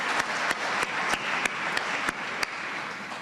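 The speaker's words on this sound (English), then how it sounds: "please give yourself a round of applause for coming out on Freedom Day" Sustained applause from an audience at a Freedom Day debate in South Africa, a dense steady wash of clapping with a few sharper claps standing out, lasting the whole stretch without voices.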